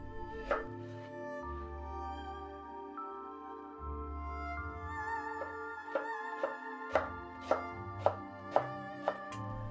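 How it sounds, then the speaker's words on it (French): A knife chops cucumber into julienne on a board, starting with a couple of slow cuts and then a quick run of sharp, evenly spaced taps, heard close over a soft, steady background hum. "Passons à la découpe avec le concombre qu'il faudra détailler en julienne"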